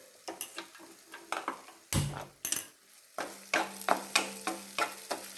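Ginger sautés in a little coconut oil in a pan, a soft sizzle broken by frequent clicks and scrapes of a spoon stirring against the metal, close and fairly quiet, with no one speaking.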